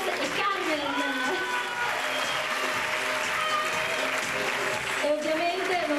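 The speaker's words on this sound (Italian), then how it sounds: "non può mancare un grandissimo applauso all'insegnante Ambra" Sustained, dense applause from an audience at a dance recital performance of Grease, steady and fairly loud for the whole stretch, with voices and cheers faintly mixed in.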